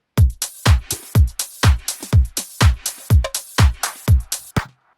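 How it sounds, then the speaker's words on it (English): A basic drum intro loop of a dance track plays on its own: punchy kick and snare hits in a steady, even rhythm, loud and close, stopping just before the end. "just basic drum intro for the DJs"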